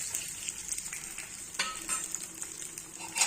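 Ingredients for samai pongal sauté in a pan with a quiet, steady sizzle and occasional scraping stirs, including a sharper spatula knock midway.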